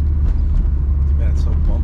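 Car engine rumble and road noise, loud and steady, while driving through a bumpy high-speed turn on a former air force base, with a voice talking over it.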